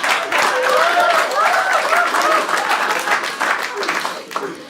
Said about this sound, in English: This is the second applause break in the bit.